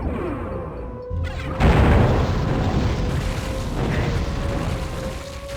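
Blood scorch weapon explosions in Hexen, a loud fiery blast erupting after a brief lull and rumbling on with dense crackling debris noise.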